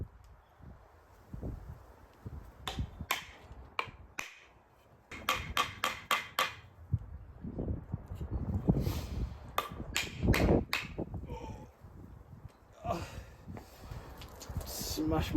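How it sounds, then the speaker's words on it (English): A hammer drives a wooden wedge into a hatchet handle to seat the head. Sharp, close strikes come in quick clusters over rustling and handling noise. "First job, refit the handle into the head. Drive it home as straight as I can."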